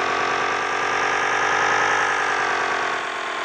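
A 160 cc motorcycle engine revs steadily and loudly with a buzzing, slightly squealing tone, holding high revs for about three seconds before easing off slightly at the end.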